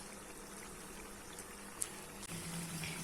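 Pork simmers in a pot on a home stove, a faint, steady bubbling and hiss of boiling liquid, with a tiny click partway through and a slight shift in tone near the end.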